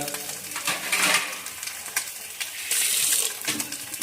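An egg omelette fries in a pan with a continuous bright sizzle that swells and fades as it cooks on its second side, close by with no talking.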